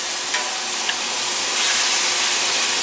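Beer poured into a hot pan sizzles with a loud, steady hiss that swells slightly toward the end, close by and without talk.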